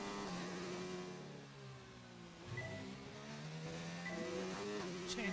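A Formula 1 car in the F1 2019 video game races a lap at Australia, its engine revving up and down through gear changes with a steady, moderately quiet whine and no talking.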